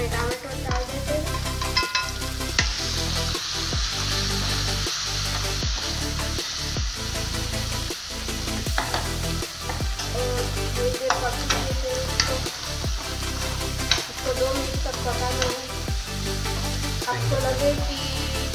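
Potatoes and tomatoes fry in a pan with a steady close sizzle, while a spoon stirs in regular scraping strokes throughout.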